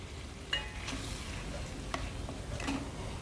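Turmeric and chili powder are stirred into tomato saaru in a pan, a quiet background of soft scraping and a few light ticks from the utensil against the pan.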